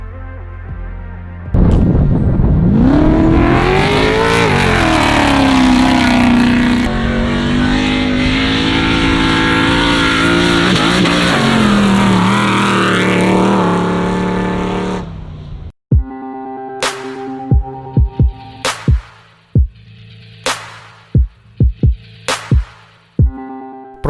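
An off-road racing car's engine in Australia revs loudly and close during a ride, rising and falling for about fourteen seconds before cutting out to a run of sharp ticks and clicks.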